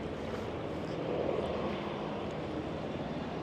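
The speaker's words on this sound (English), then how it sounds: "We have just got a helicopter taking off." A steady, loud engine roar of a helicopter lifting off near boat docks on the Gold Coast, swelling slightly midway and holding constant, with no voices.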